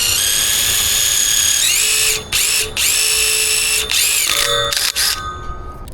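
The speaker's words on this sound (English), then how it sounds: "Drill this guy out first." A power drill bores out a hole for a Polara pedestrian push button, loud and steady, with its whine briefly stopping and restarting several times as the bit works through.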